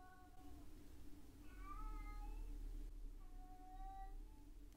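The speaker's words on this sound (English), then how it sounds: "That's a cat." A cat meows twice indoors, faint and somewhat distant, each call a short rising-falling wail over a low background hum, with no speech.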